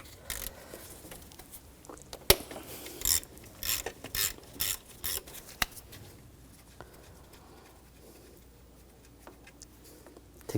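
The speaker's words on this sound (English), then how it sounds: "loosen the nut." A ratchet wrench with a 12mm socket loosens a nut in the engine bay of a 2004-2009 Audi A4 Quattro 2.0L, sounding as close, quick bursts of metallic clicking that then fall away to quiet.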